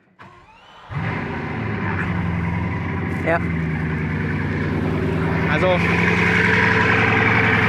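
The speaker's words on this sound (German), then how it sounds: "Also das klingt richtig böse, richtig tief hier. Der schöne W16 Motor am Start." A car's W16 engine rated at 1500 PS cranks and fires, then settles into a deep, rumbling idle close by, while someone speaks briefly over it.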